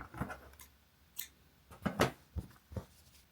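Scissors snipping crochet yarn while making a motif vest, a few quiet, close metallic clicks and cuts spaced irregularly, with soft handling rustle between them and no talking.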